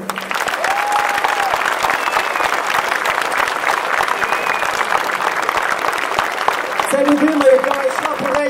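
A crowd applauds a battalion commander at a military award ceremony, steady dense clapping that carries on for several seconds, with a brief tonal sound near the end.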